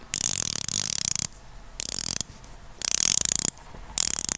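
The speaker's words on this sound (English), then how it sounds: "not so happy with the sound of the bezel, but I like it. It's a little bit metallic" A rotating ceramic bezel on a Deepblue Tritium dive watch ratchets in three close, loud bursts of rapid metallic clicks, with short quiet pauses between turns.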